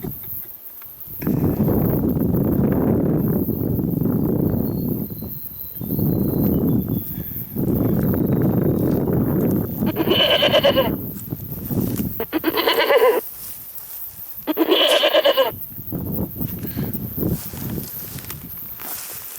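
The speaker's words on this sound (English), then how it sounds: "There's another goat in the bush here." Goats bleat out in the bush during a hunt with a game caller, a few loud harmonic cries standing out after stretches of rustling movement and footsteps through brush.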